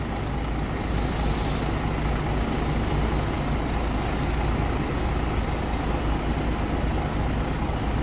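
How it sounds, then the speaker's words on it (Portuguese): A Cometa coach pulls out of the boarding area at a Graal highway stop near Ribeirão Preto, its engine a steady broadband rumble with distant traffic, continuous and fairly close. "Cometa já vai deixando aí a área de embarque."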